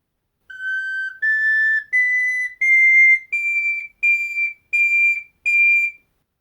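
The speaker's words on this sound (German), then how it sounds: "Diese Blockflöte nennt man gar klein." A tiny garklein recorder plays eight separate, very high, pure notes climbing step by step, each held briefly with short gaps between, close and clear against silence.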